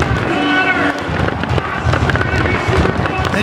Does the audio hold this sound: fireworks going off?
yes